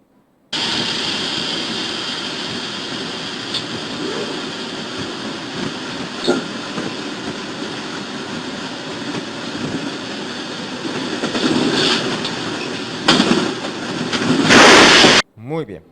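Two trains collide in a rail accident, with a long continuous rumbling rail roar that builds and ends in loud crashing bursts near the end before cutting off abruptly, with voices in the mix.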